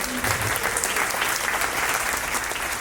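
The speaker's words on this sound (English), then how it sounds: "Give a round of applause for Mayor Breed." Steady, full applause from a gathered audience for San Francisco Mayor London Breed at a program kickoff event, dense clapping that stays loud and even throughout without any talk.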